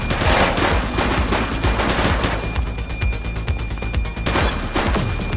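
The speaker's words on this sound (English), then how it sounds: "She's shooting!" Rapid automatic gunfire from a police shootout in the video game The Precinct, loud and sustained bursts crackling almost continuously with dense overlapping shots, briefly thinning before another heavy volley.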